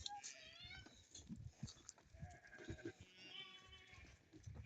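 Several goats bleat on a farm, repeated wavering calls overlapping from nearby, with a faint voice underneath.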